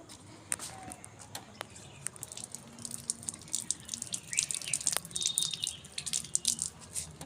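Star fruit is rinsed under running water, drips and splashes growing busier toward the end, with scattered clicks and light handling noises close by.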